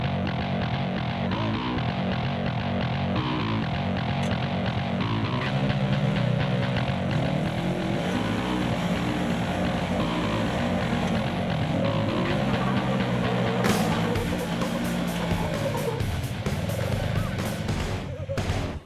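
Off-road vehicle engine labouring steadily as it climbs a wet rock hill on the Poison Spider trail in Moab, a continuous loud drone that rises and falls with throttle, with voices talking over it throughout.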